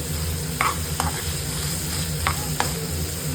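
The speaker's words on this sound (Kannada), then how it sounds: "ಲೈಟಾಗಿ ಫ್ರೈ ಆಗಲಿ" Whole spices frying lightly in a pan for a pepper-fried goat intestine masala, a steady low sizzle with a few short scraping stirs standing out, close and alone with no talk.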